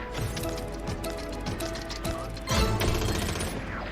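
Rapid bursts of gunfire from the slot game Battleground Royale, dense crackling shots over a busy game soundscape, loud and continuous.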